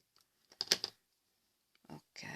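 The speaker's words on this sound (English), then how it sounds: "now we will need to cut the excess" Excess paper being cut for a handmade paper graduation cap: a few crisp, short snips and rustles close up, separated by quiet pauses, with a longer papery cut at the end.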